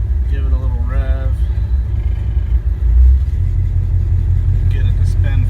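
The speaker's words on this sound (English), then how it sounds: "Give it a little rev" Chevelle V8 idling with a rough rumble, then given a short rev that swells the engine note before it settles back; a voice talks over the running engine at the start and end.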